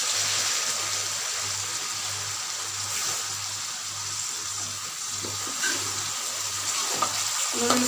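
Carrot curry with added water simmers and bubbles in a pan under steady sizzling hiss, with a few soft utensil scrapes from stirring, close and continuous without talk.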